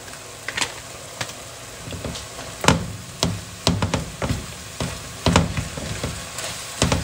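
Meat with taco seasoning frying in a pan, a low sizzle punctuated by frequent irregular knocks and scrapes of a utensil breaking up and stirring the meat, close and fairly loud.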